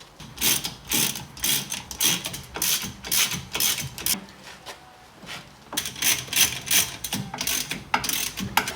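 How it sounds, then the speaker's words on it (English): Bolts being tightened on a 1987 Toyota during a rebuild, a ratchet clicking in rapid bursts of repeated pawl clicks with short pauses between strokes, close and fairly loud, no talking. "I'm gonna finish off tightening these bolts back here"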